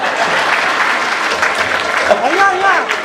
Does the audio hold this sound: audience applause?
yes